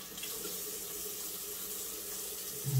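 Lukewarm water runs steadily from a bathroom tap into a sink while a washcloth is rinsed, a constant close hiss with no talking.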